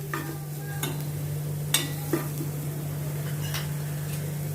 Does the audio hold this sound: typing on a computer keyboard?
no